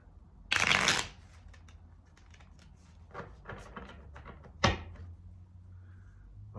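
A quick riffle of tarot cards shuffling up close, followed by soft handling and tapping, then a second brief shuffle snap.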